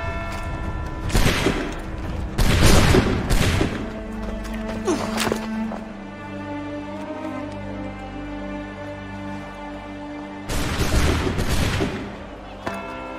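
A musket volley in Assassin's Creed 3, with loud, near bursts of crackling gunfire in several waves, a ringing tonal game score between them and a final burst near the end.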